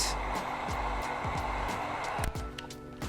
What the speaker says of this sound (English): So grab your heat device, apply heat